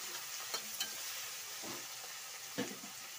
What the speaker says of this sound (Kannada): ಒಂದು 10 ನಿಮಿಷ ಕಾಲ ಫ್ರೈ ಆಗಲಿ ಎಣ್ಣೆಯಲ್ಲಿ.